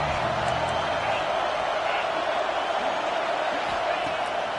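A steady, dense stadium crowd roar fills a College Football 26 video game broadcast on a third-and-goal play, loud and continuous throughout with a faint announcer-like voice mixed in.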